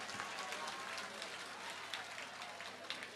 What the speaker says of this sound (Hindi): जोरदार ताली बजा करके हमारे आदित्य जी को धन्यवाद दो